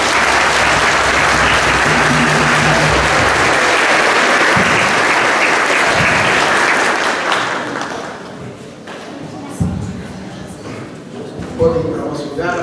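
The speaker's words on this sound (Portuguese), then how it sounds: "vamos dar uma salva de palmas." Church congregation applauding after a baptism, a dense full round of clapping for about eight seconds that then thins into scattered claps and light murmuring voices.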